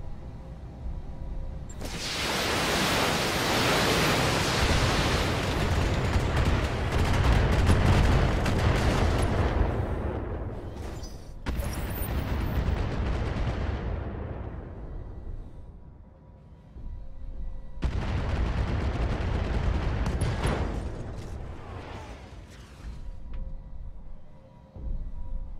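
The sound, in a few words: mech firing all weapons in video game Battletech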